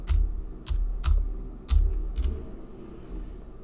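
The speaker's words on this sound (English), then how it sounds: "I'm going to type in his spouse's name, Zilpha." Typing on a computer keyboard while entering a name into a genealogy records search: about six distinct key clicks at an uneven pace, close and clear over quiet room tone.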